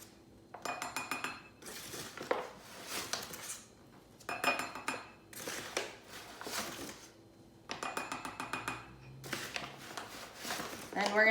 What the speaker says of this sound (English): take 4 tablespoons of flour, and we're just going to add everything right into the mug